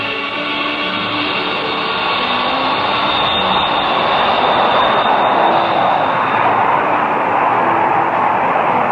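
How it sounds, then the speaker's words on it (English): A military jet aircraft taking off at a 1950s US air base, a loud, steady roar of engine noise filling the whole stretch, close and continuous. "You are cleared for takeoff."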